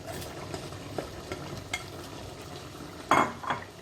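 A spoon stirs a Spanish cuttlefish stew with peas in a pan, producing soft scraping and a faint simmer, with a sharper clatter of utensil against pan near the end.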